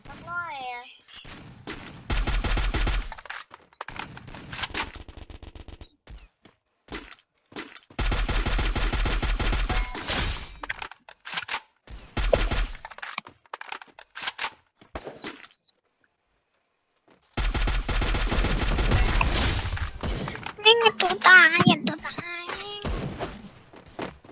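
Gunfire in the battle-royale video game Free Fire: several loud sustained automatic bursts separated by quieter stretches, with someone talking between and over the shots.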